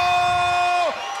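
A loud arena crowd cheers and shouts as a cage fighter makes his Cage Wars debut entrance, a close, dense roar with a sustained tone that drops away near the end.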